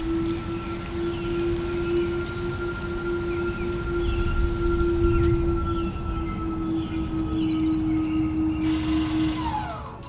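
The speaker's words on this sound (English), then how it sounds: "it makes kind of a cool humming noise when you're backing up." A Tesla Model 3 reversing gives off a steady, pitched electronic hum that holds an even tone for about ten seconds over a constant bed of rumbling road noise.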